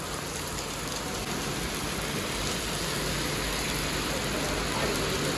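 Heavy monsoon rain pours down in Goa, a dense, even hiss of downpour that stays loud and steady from start to finish with no talking.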